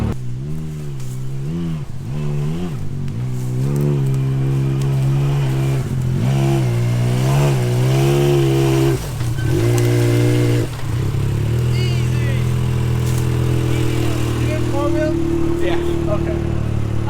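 A Yamaha YXZ 1000 side-by-side engine revs and drones on a trail, loud and close, with rising and falling pitch as the throttle changes and people talking over it.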